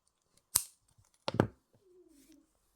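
Short wire ends for a wire-wrap pendant are snipped with a few sharp clicks, two distinct close cuts about a second apart, followed by a faint scraping rustle.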